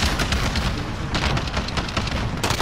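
Dense, loud gunfire and blasts from a Call of Duty Warzone multiplayer match crowd together into a continuous roar of battle with no clear gaps between shots.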